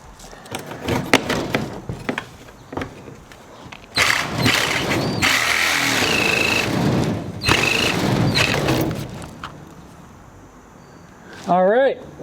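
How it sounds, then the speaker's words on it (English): A Sawzall reciprocating saw cuts through a fiberglass school bus roof in two loud, rasping bursts of several seconds each, separated by scattered knocks and handling noises, with people talking between the cuts. "I think I can use the Sawzall here."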